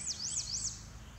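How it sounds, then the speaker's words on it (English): A bird sings a short, repeated high chirping phrase three times in quick succession, fairly close, over a quiet low rumble, on the Appalachian Trail. "just sitting here listening to the birds sing"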